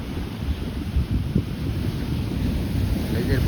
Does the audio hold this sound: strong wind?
yes